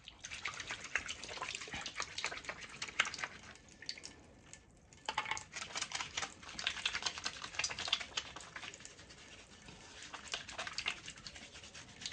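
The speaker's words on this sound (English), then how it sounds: "So next, you gotta wash your face." Water runs and splashes faintly as a face is washed at a sink, a continuous soft hiss with small irregular drips and splashes, low in level and distant.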